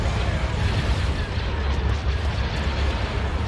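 Artillery barrage in the Empire at War FOTOR mod, a Star Wars strategy game: continuous dense rumbling roar of bombardment, loud and sustained throughout, with faint high tones near the end.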